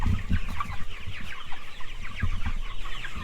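Chickens cluck steadily on a farm, with a close, busy chorus of overlapping clucks and low scratchy calls and no voices.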